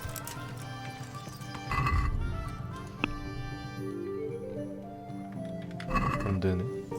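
Hooves clop as a horse is ridden in the medieval game Kingdom Come, with rhythmic steps, thuds and a brief whinny-like tone mixed with game sounds, while a person talks over it.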